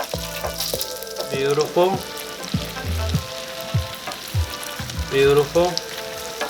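Cinnamon sugar donuts bubble and crackle in hot oil deep enough to float them, a lively sizzle with scattered pops and clatter, while a person briefly speaks over it.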